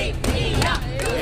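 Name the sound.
crowd hooting at a box cricket match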